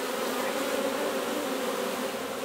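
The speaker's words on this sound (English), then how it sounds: "And there's all your gorgeous little worker bees on there." Honeybee workers hum in a dense, steady drone during a brood inspection at an open hive, close and continuous but fairly soft, with no talk.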